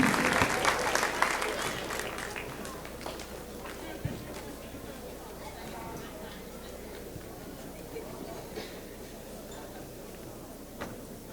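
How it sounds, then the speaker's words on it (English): Crowd at the Dothan Downtown Hoops Classic 2014 basketball tournament applauding the all-tournament team, a burst of clapping that is strongest at the start and then thins into scattered claps and room noise. "let's have one huge round of applause to this year's Dothan Downtown Hoops Classic 2014 All-Tournament Team"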